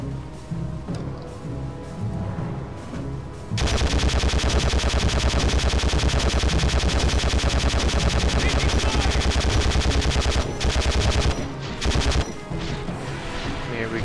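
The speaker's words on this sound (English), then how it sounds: "Shooting." Sustained automatic gunfire from the video game Conflict: Desert Storm, a dense rapid rattle of shots lasting several seconds at close range, with quieter game sounds before and brief pauses near the end.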